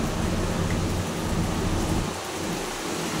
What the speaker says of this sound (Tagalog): Lakas ng hangin tsaka ulan mga idol.